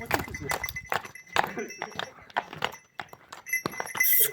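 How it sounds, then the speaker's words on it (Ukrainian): A horse with a smooth, light gait walks along, its hooves clip-clopping in a steady rhythm up close while someone talks over it. "Ну цікаво йде кінь"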